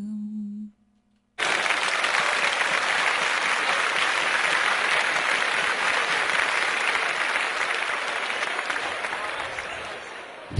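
Loud, sustained audience applause fills the room right after a live song on a Zonguldak radio broadcast, following a brief held sung note, steady clapping lasting about nine seconds.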